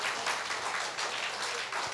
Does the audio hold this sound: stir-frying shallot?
no